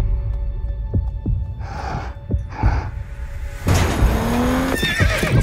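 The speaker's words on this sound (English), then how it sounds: "What made Secretariat the greatest racehorse who ever lived?" A horse whinnies twice in quick succession over a low throbbing hum, followed by a louder, rougher neigh, all close and prominent in a racehorse-themed Audi S5 advertisement.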